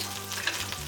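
A steak laid in a hot pan gives a brief, fairly quiet hiss of sizzling that lasts about a second, with a faint scrape and no voices.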